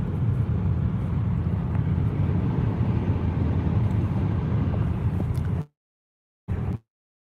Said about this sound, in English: Driving through a national park or something.